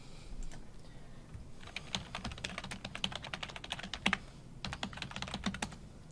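Rapid clicks of typing on a computer keyboard come in uneven bursts, close and fairly quiet, over a faint room hum.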